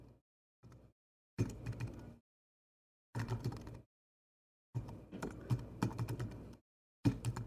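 Typing on a computer keyboard while building a web page button, heard as several bursts of rapid clicking keystrokes separated by silent pauses, close and fairly quiet, with no talking.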